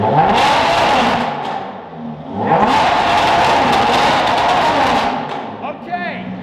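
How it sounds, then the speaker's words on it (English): A Pagani Zonda supercar engine revs loudly in a garage, rising in two long sustained bursts with a short dip between, while people talk excitedly over it. "That sounds like a Zonda."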